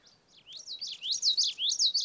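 A warbler sings a bouncy, repeated witchity-witchity phrase, a quick series of bright rising and falling notes, clear and fairly close.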